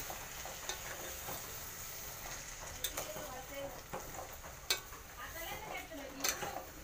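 Amaranth leaf curry with dal and onions stirred in a pan, a soft steady sizzle punctuated by occasional scrapes and clinks of a spoon against the pan.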